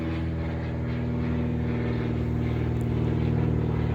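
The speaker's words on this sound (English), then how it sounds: "It's an old school prop plane in the front." A steady, loud engine drone with a low propeller hum from an old propeller plane taking off overhead holds throughout and builds slightly toward the end, with no voices.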